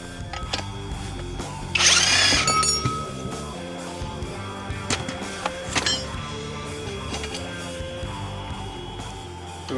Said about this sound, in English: We're going to remove all the 18mm bolts that connect the drive shaft to the guibo.